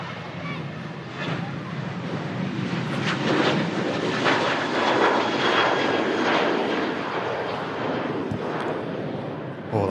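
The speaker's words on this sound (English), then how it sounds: "It's Jet 2 737 on the way out to Athens." A Jet2 Boeing 737 departs Manchester Airport, its jet engines a loud broad roar that builds and holds, heard from outdoors with a breeze in the background.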